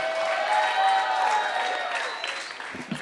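A comedy club audience in San Diego applauds and cheers for a comedian, a dense, steady wash of clapping that tapers slightly toward the end, with faint voices rising at the close.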